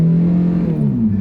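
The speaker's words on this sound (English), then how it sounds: "It does rev up pretty high to get going. It has to with that tiny engine." A small car with a tiny engine revs high as it pulls away, one strong, close engine tone that climbs then dips as the gear changes, with no talking over it.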